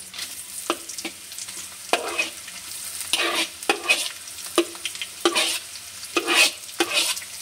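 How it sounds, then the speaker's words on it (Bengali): Pre-fried carrots tipped into spices in a pan and stirred while frying for a Bengali leftover-rice dish, repeated scraping strokes of a spatula over a close, crackling sizzle. "এবার যে গাজর কটা ভেজে নিয়েছিলাম আগে, সেই গাজর কটা এবার দিয়ে দিচ্ছি এতে"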